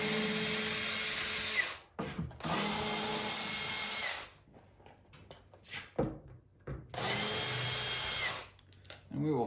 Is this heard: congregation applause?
no